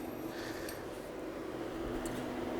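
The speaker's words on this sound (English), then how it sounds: "Sorry about the fan noise on it" A kitchen extractor fan runs steadily beside an induction hob, a continuous low mechanical hum and airy whoosh holding level throughout with no talking.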